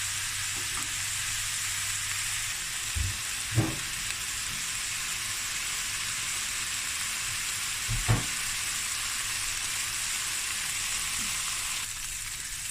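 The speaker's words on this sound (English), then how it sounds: "onions frying away nicely." A steady, bright sizzle of onions frying in a pan continues throughout, with a couple of soft clunks as the food is stirred.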